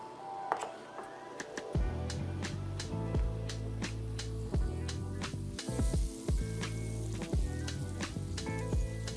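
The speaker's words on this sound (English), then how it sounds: "I have 2 tablespoons of butter. I'm going to melt that." Two tablespoons of butter melting in a hot pan, sizzling steadily for most of the stretch, with repeated sharp ticks and clinks of a utensil against the pan over the frying hiss.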